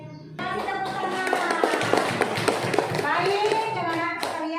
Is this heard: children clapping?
yes